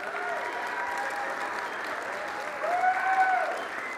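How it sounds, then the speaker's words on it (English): An audience applauds volunteers at a winter speaker series, steady crowd clapping throughout that swells louder near the end, with a faint voice or whistle-like tone over it. "we just need to give them a big round of applause"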